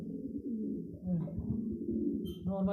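Pigeons kept for sale at a Bangladeshi breeder's loft coo close by in soft, repeated throaty rolls, layered and continuous, with a brief higher call near the end.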